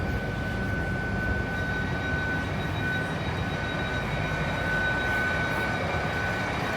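Steady loud rumble of a train pulling away, with a sustained whine running through the noise, no talking.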